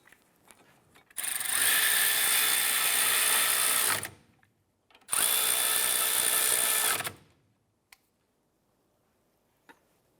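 A power tool tightens a brake caliper bracket bolt on a 2005-2007 Ford 500 during a front brake job, running in two loud sustained bursts of about three and two seconds, followed by faint clicks.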